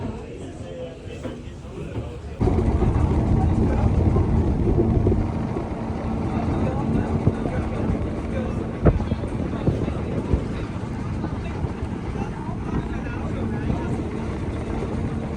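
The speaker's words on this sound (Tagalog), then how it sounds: "First time ko sumakay ng Roro dito sa Swiss. Patawid siya ng Germany." Aboard a RoRo ferry crossing from Switzerland toward Germany, a steady low engine rumble and wind buffeting fill the air, growing louder after a few seconds, with people talking over it.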